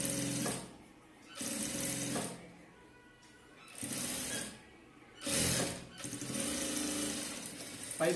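A sewing machine stitches the lining of a chudithar top in several short, close bursts of rapid whirring, with quiet pauses between each run.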